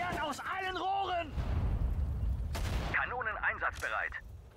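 Artillery and gunfire from the World War II strategy game Sudden Strike 4, with a booming cannon blast and rumble landing between German-speaking soldier voices, all moderately loud in the game mix.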